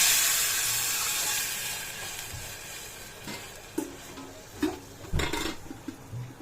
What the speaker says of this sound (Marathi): याच्यामध्ये पाणी ओतूया।